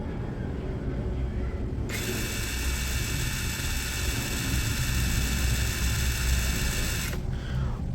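A DCA ADPL03-14 cordless brushless impact driver runs at its low speed setting, giving a steady high-pitched whirring whine that starts abruptly, holds for about five seconds and then stops, heard close over a constant low background rumble.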